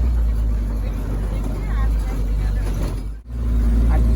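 An old Japanese military vehicle, driven from the left side, rumbles steadily along a forest track, its low engine drone constant and close while people talk over it.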